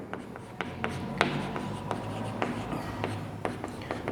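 Chalk or a marker writes on a board during a mathematics lecture, making steady scratchy strokes broken by regular sharp taps, close and fairly quiet.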